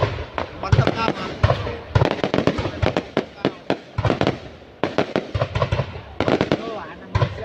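Spring New Year fireworks burst high in the sky: a steady stream of crackling pops and sharp bangs, some in quick clusters, heard from a distance while people chat nearby.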